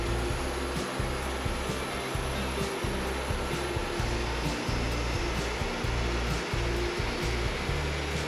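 A Woodmizer LT40 band sawmill cuts through a ponderosa pine cant, with a loud, steady mechanical roar and an engine hum throughout and a faint rhythmic flutter underneath, no voices heard.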